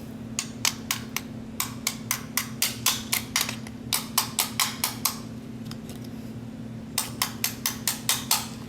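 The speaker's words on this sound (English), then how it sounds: "you're going to take your pin and you're going to hammer it back in there" A hammer drives a pin into a door lock actuator from a 1994–98 Honda Accord, with sharp metallic taps in quick bursts of four to six strikes separated by short pauses, over a low steady hum.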